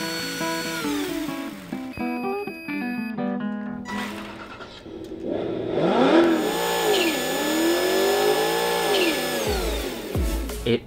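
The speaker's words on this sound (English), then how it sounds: "So I'm using this GT Mustang sound." A sound module in a white Toyota Supra MK4 RC car plays a GT Mustang engine sound, with synthetic revs that climb, shift and fall in repeated loud sweeps, plus an electric motor whine and a blow-off valve hiss.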